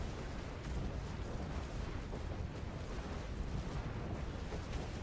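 Spell explosions in the action RPG Diablo 4 make a dense, continuous rumbling roar of overlapping blasts that stays loud and steady throughout, with no clear gaps between hits.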